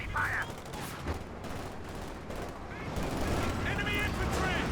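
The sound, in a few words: rocket artillery fire in the video game Company of Heroes 2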